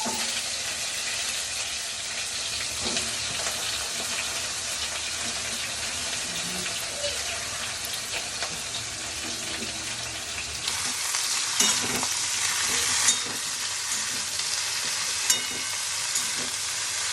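Vegetable chorchori frying in a pan and being stirred, a constant close sizzle with occasional scraping clatters and brief louder crackles toward the end, with no voices.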